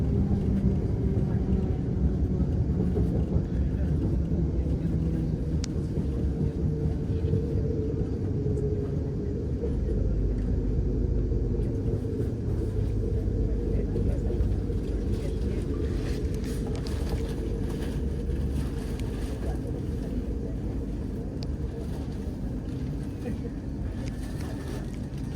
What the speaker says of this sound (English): this train's now arriving at Five Ways